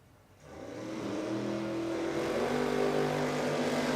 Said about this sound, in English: So the LJ Tirana on track of Brendan Shaw, the Downs Automotive Service Tirana.